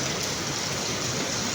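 Heavy rain in Pampanga pours steadily as a dense, loud, continuous hiss with no pauses or talking.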